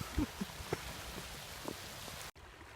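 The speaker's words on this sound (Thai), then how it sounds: "ฝนตกมาแล้วครับ" Heavy rain pours steadily outdoors by the Mekong River, a dense, close hiss with a few louder nearby drops early on, before the sound cuts off abruptly near the end.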